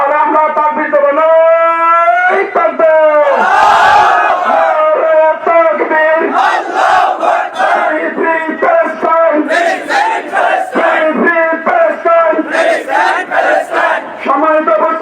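A large crowd at an outdoor protest rally in Nilphamari roars a takbir chant in unison, loud and close. Repeated call-and-response bursts of massed shouting fill the whole stretch.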